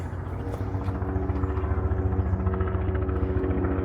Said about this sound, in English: with the helicopter flying overhead.